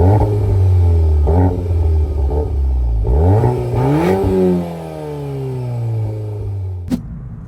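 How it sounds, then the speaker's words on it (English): A Volkswagen Golf R facelift on a German autobahn gives a loud, steady engine drone heard from inside the cabin, with the pitch rising and falling through gear changes and ending in a sharp click. "I'm out in the Golf R, of course, on German roads."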